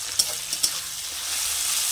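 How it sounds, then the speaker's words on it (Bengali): Green chilli and onion paste frying in oil in a pan, a steady bright hiss with two quick spatula taps at the start, close and without speech. "এর মধ্যে কাঁচা লঙ্কা, পেঁয়াজ বাটা দিয়ে ভালো করে কষিয়ে নেব।"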